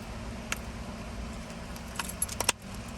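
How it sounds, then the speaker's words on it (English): Small clicks from a car key fob on a 2010 Silverado 5.3 with a door lock fault, a few sharp light ticks over a low rumble, with a brief jangle of keys near the end. "Click. Fob click."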